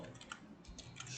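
A computer keyboard being typed on, a quick burst of close, crisp key clicks in an irregular rhythm with no talking.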